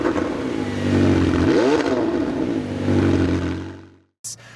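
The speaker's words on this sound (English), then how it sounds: "I don't know what the base exhaust sounds like, but the sports exhaust is certainly glorious" A 2019 McLaren 720S Spider with the optional sports exhaust revs loud and close, its engine note swelling through a sharp rise, holding a rough roar, then cutting off abruptly, followed by a brief clack.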